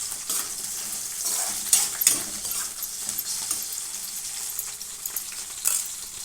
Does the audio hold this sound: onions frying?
yes